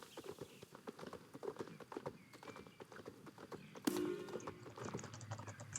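Horse hooves clip-clop steadily in a quick, even rhythm while riding in the Star Stable video game, close and continuous, with a brief louder burst near the end.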